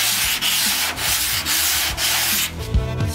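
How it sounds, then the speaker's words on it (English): Steady back-and-forth rasping of sandpaper on a 1948 Chevy Cabriolet body panel, loud and close, in repeated strokes with brief pauses between them. "Sanding out everything."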